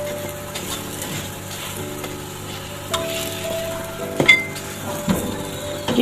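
An aloo paratha frying in oil on a tawa griddle, a steady soft sizzle running throughout, with occasional clinks and scrapes of a spatula against the metal pan.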